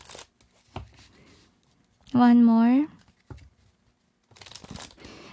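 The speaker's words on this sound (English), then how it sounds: "Another shuffle, they say." A deck of tarot cards is shuffled in a quick, papery flurry near the end, after brief speech and a short sustained vocal tone.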